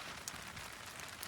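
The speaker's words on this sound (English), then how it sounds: "And now it's raining now" Soft, steady patter of rain falling at night on a campsite, a quiet continuous hiss with occasional slightly sharper drops and no voices.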